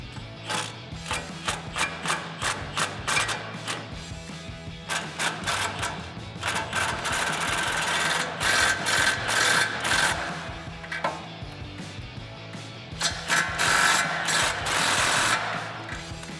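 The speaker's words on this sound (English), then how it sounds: "to tighten that down, we're going to be using a 22mm socket, a swivel extension, and an impact" An impact wrench with a 22mm socket and swivel extension tightens the upper ball joint nut on a Tacoma during a suspension lift, giving rapid hammering bursts in several separate runs with short pauses between them.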